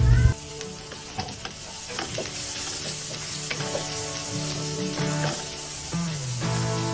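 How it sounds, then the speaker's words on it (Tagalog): Mixed vegetables sautéing in a pan after ginger, garlic and tomatoes, a close continuous sizzle with intermittent stirring clatter, starting with a brief louder burst. "nilagay na natin ang ating uh, gulay. Ayan, at ginisa na natin ang ating gulay na mix gulay mga idol"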